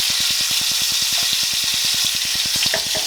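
Minced garlic and bacon sizzle steadily in a hot pan, a dense, continuous frying hiss held close and loud throughout, with a regular rapid ticking underneath.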